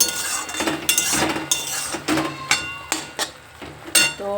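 Dishes and cutlery clink and clatter in a home kitchen while panta bhat is prepared. Sharp metallic knocks and chinks repeat irregularly every half second or so, close and moderately loud, with no talking.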